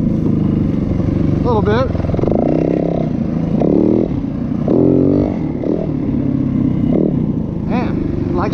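Yamaha WR450 dirt bike revving hard during a wheelie, its engine rising and falling in several surging bursts with wind buffeting close to the mic, while a rider speaks briefly over it.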